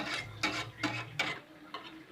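A spoon stirs coconut milk as it heats in a pot, making about four soft, rhythmic scraping strokes, quiet and close.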